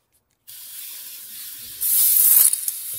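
Autoglym Magma wheel cleaner sprayed onto a BMW 435d car wheel, a steady close hiss from the trigger sprayer that swells into a louder, harsher burst before tailing off.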